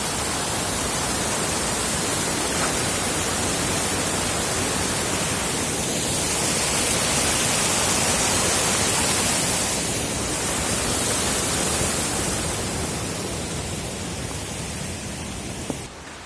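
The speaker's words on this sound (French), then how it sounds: "le bruit que l'on entend, c'est la rivière qui se trouve là." A river in the Jura, France, rushes steadily with a loud, broadband roar, close by and unbroken throughout, with small cascades adding a constant hiss.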